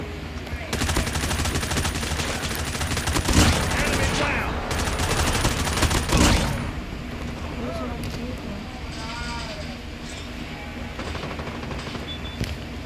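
Rapid automatic gunfire from a Call of Duty match in a cranked mode, loud bursts dense through the first seconds, then thinner shots and game effects under ongoing voices.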